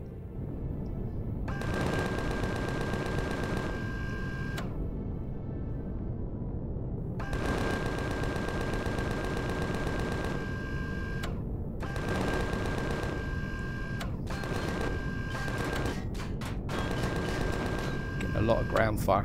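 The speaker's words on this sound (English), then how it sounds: "A lot of ground fire" Sustained ground fire in Empyrion Galactic Survival, a sci-fi survival video game, heard as long bursts of rapid automatic shots broken by short pauses, with a steady engine-like hum underneath.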